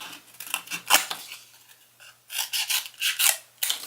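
Scissors snipping through strong, stiff cardboard for a DIY handlebar mount, a few close crisp cutting and rasping strokes in short bursts with brief pauses between.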